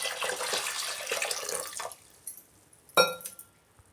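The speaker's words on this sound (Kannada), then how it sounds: "ಈಗ ಸ್ವಲ್ಪ ನೀರು ಸೇರಿಸ್ಕೊಳ್ಳೋಣ" Water is poured into a pressure cooker holding lentils and radish for sambar, a steady splashing pour that runs for about two seconds, then stops, followed by a sharp clink against the metal and a few faint drips.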